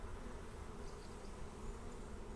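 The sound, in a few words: honeybees buzzing on a hive frame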